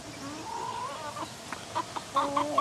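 Cornish cross chickens at a backyard processing station cluck and murmur nearby, with a few rising calls followed by short, sharper clucks toward the end over a low steady background hum.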